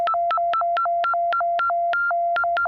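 A 1974 Minimoog synthesizer plays clean electronic tones that step back and forth between two pitches, each note starting with a sharp click, steady and fairly loud.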